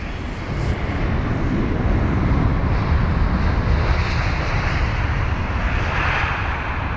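An Airbus A320ceo fitted with sharklets roars past at London Heathrow, a loud, broad jet-engine rush that holds steady and close for the whole stretch, with no speech.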